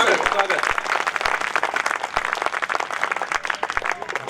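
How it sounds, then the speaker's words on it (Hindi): Audience applause at a Hindi comic poetry gathering, a dense, steady burst of clapping from a crowd filling the whole stretch, loud and close, with no voice over it. "आप लोग मेरा मन बना दीजिए, एक बार तालियां दीजिए"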